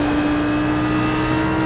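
An Audi R8 GT3 race car in a racing video game at Mosport, its engine held at a loud, steady, high-pitched drone under full throttle, close and continuous with no talking.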